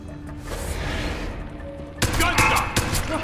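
Gunfire in Deus Ex: Human Revolution Director's Cut, a quick burst of several loud, sharp shots near the end after a stretch of ambient in-game noise.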